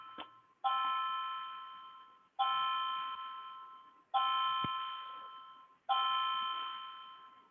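A clock chimes the quarter hour with four bright, ringing strikes, each sharp at the start and then slowly fading before the next, clear and alone with no voices.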